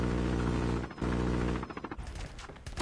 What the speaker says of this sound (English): What the heck is that shooting at us?